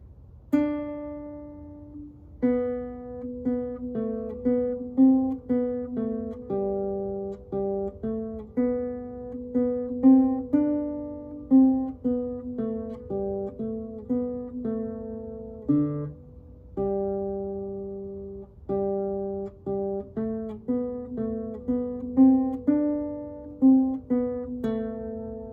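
Solo guitar plays the A part of the tune Simple Gifts, a steady stepwise melody of single plucked notes with a few brief pauses, close and clear with no talking.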